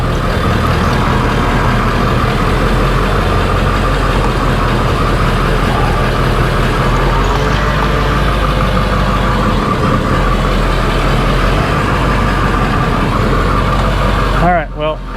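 A police-auction 2000 Ford F350 Powerstroke diesel truck engine runs steadily with a loud, close, continuous rumble that cuts off abruptly at the end, and a voice speaks over it.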